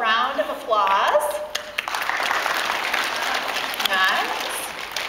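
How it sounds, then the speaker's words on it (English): A group of girls at a Girls on the Run event claps, mixed with cheering voices and chatter; dense steady applause runs throughout, with excited shouts rising at the start and again near the end. "you can give a girl a round of applause"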